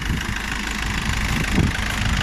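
A 1.9 TDI diesel engine in an Audi A3 with 122,000 miles and a new flywheel and clutch idles with a steady, close clattering rumble, alone and unbroken.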